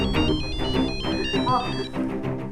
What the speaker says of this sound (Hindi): अरे अनीता, किसका फोन है?